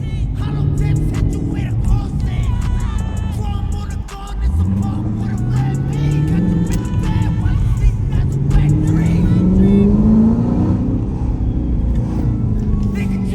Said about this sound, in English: You can hear the fucking Beamer too.